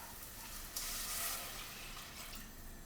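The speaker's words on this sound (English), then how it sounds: "and pour in the water" Water poured into a pot of toasted millet and salt, a steady broadband splashing rush that swells briefly near the middle and then settles, close and alone without talk.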